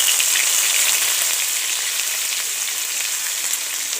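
Onion paste frying in oil with whole garam masala and bay leaves for a stuffed pointed gourd curry, giving a steady, dense sizzle that holds loud and even throughout with faint crackles and no voices.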